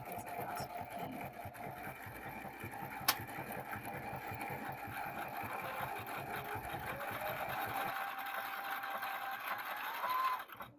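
A sewing machine stitches a narrow fabric strip for mask elastic, a close, steady mechanical whirring with rapid needle rhythm running throughout, broken by one sharp tick and ending with a brief rise before stopping.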